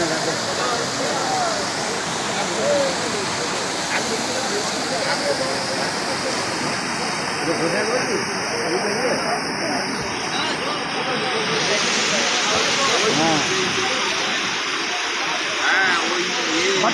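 Floodwater let out by a DVC dam release rushes through a narrow gap between houses, making a loud, continuous roaring hiss like a waterfall that stays steady throughout.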